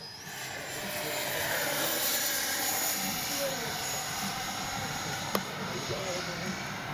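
A HobbyKing FlyCat V2 RC jet on its maiden flight passes overhead as a steady, moderately loud ducted-fan whoosh that holds level throughout, with a brief sharp click near the end.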